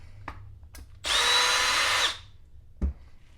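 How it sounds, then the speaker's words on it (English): A power screwdriver spins for about one second, backing screws out of the differential bulkhead of a Typhon 3s RC car, loud and close, framed by a few light clicks and a thump of handling. "The only thing that's left is take out these last two screws on the bottom"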